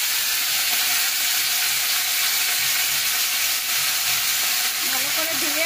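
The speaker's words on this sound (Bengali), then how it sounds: "নাড়িয়ে চাড়িয়ে জিরাটা ভেজে নেব" Cumin seeds, then flat beans and potatoes, sizzle steadily in hot oil, a dense close frying hiss with occasional stirring scrapes throughout.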